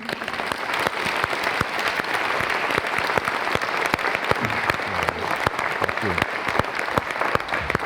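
An audience at a business college dean event applauding to welcome a speaker, dense steady clapping throughout with a faint voice underneath.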